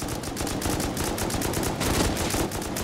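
An M2 machine gun fires in a video game with a dense, continuous roar of rapid shots, sustained and loud for the full stretch with no talking.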